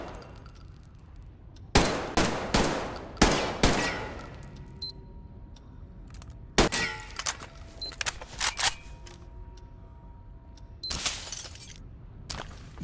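A .45 automatic pistol is test fired on a range in the Metro Exodus video game, with several groups of sharp, loud shots and metallic clatter between quieter pauses.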